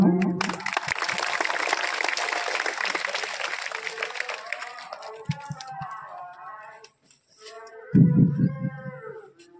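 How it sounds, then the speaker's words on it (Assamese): An audience at a school function claps for a teacher, a dense burst of applause that fades after a few seconds, followed by a quiet stretch and a brief louder noise. "আমি সকলোৰে বাইদেউক এটি হাত চাপৰি জনাম"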